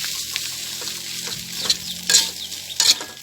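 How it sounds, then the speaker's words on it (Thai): Field rat stir-fried with chili curry paste in a pan, a steady sizzle broken by scraping stirs and a few louder clanks of the utensil against the pan, heard up close with no talk. "ใส่พริกแกงแค่พอสุกแล้วเอามาคั่วกับหนูให้มันหอมทีนึงจ้ะ"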